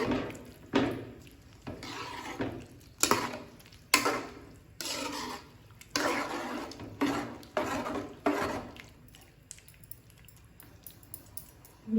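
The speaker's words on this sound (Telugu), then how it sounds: "ఇప్పుడు ఒకసారి కలుపుకొని మూత పెట్టుకోవాలి" Rice milk pudding stirred in a pot with a spoon, producing a series of repeated wet scraping and clinking strokes at an irregular rhythm, close and moderately loud, then fading quiet before a final lid-like knock.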